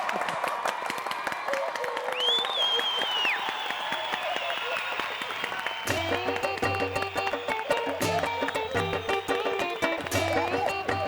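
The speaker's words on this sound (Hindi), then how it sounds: "भाई एक बार जोरदार तालियां हो जाएं गोपीनाथ गंडोत्रा जी के लिए" Audience applause and cheering at a live comedy show, a dense wash of clapping that continues steadily throughout, with music and voices mixed in during the second half.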